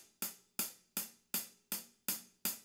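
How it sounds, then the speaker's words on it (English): Seven evenly spaced hi-hat strikes played with the tip of a drumstick, each a bright, crisp tick with a short shimmering decay, heard alone and close. "Here's the tip or the bead."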